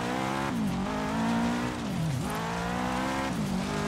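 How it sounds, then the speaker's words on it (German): A car engine in the racing game Forza Horizon 3 revs and shifts, its harmonic drone rising and dipping through several gear changes, loud and close with faint tire noise underneath. "Ja, der hört sich schon geil an, der Wagen hier."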